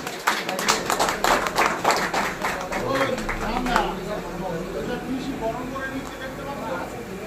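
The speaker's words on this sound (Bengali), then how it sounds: "সবাই একটু হাততালি দিন।" An audience at an annual general meeting honouring football referees claps, a burst of crisp overlapping hand claps that thins out after a few seconds while a voice keeps talking over it.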